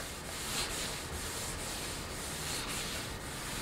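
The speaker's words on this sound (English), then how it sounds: "Just scrub it in, make, make your lightly soaked cloth go as far as possible until you're almost not applying it anymore." A cloth rubbed steadily over vintage piano wood, working in an oil finish. The close, continuous scrubbing hiss swells slightly with each back-and-forth stroke, with no talking.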